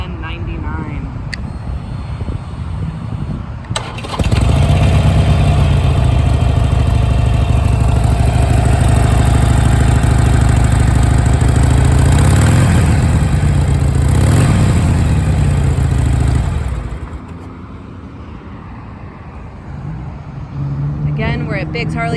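A stock, low-mileage 2020 Harley-Davidson Sportster Iron 883 engine starts with a loud, deep rumble. It runs steadily for about twelve seconds with a couple of throttle blips near the end, then cuts off to quiet.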